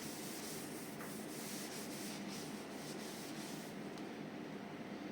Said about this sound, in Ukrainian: тепер серветкою прибираю з детолі, витираю